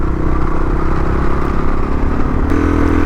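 A motorcycle rides along a muddy dirt road between Braidwood and Taylor's Crossing in Australia, its engine droning loud and steady with wind rush and clattering over rough ground, the pitch shifting near the end.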